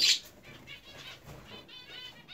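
Small cage birds, cockatiels and young zebra finches, flutter and flap their wings inside an aviary, a fairly quiet run of soft rustling wingbeats that starts with a brief sharper chirp and continues for about two seconds.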